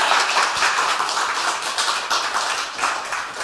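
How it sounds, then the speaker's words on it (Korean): Steady clapping from a church congregation welcoming a pastor, dense and continuous at a fairly even level throughout. "할렐루야 하고 박수치고 맞이해 주시기 바랍니다."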